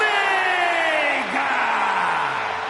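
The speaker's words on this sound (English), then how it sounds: "Listen to the noise from this crowd" A big arena crowd roars and cheers in the WWE 2K26 wrestling game as a wrestler makes his entrance, the roar loud and sustained while a tone sweeps downward through it.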